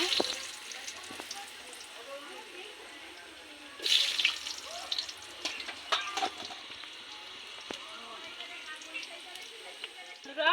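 Potatoes frying in hot oil in a pan for vegetable khichuri, a steady sizzle that surges louder partway through as more pieces hit the oil, heard up close with intermittent clatter.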